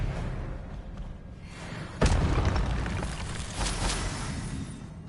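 An Expelliarmus spell blast in the video game Hogwarts Legacy lands as one sudden, loud boom partway through, then trails into a rumbling, crackling wash over steady game ambience.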